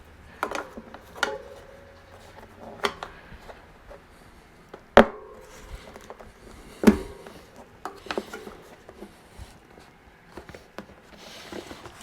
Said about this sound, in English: I'm gonna go ahead and use my tire levers now, those in there, get this tire pot back on there